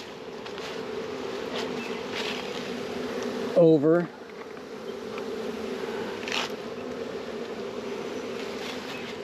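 Bees swarm around a Nuc hive box outdoors, a constant dense buzzing drone close by; a voice briefly speaks over the hum midway.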